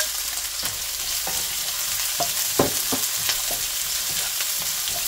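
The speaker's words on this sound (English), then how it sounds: "And then we're going to be adding our onion." Onion fries in a hot pan while cooking tomato and basil pasta, a loud steady sizzle with scattered scraping stirring strokes and spoon knocks, close up and without talk.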